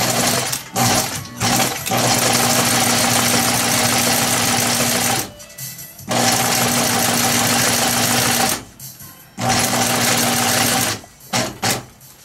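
Leather journal being stitched on a sewing machine, its steady mechanical whirring running in long loud bursts with brief pauses between them.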